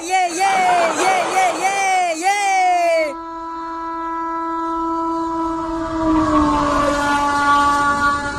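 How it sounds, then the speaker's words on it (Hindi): A cartoon train pulls into a station with a long, sustained horn-like tone. Lively animated voices chatter briefly just before it, and faint crowd noise sits underneath. "आ गई ट्रेन, आ गई ट्रेन।"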